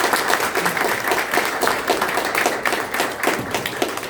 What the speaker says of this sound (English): if you join me in one more round of applause